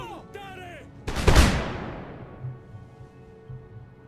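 Swiss Guards fire a single musket volley in Empire: Total War, a loud crackling burst that dies away into a long rolling echo, with faint battlefield noise afterward.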